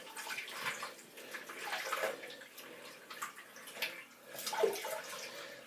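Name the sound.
rinsing a shaving brush under water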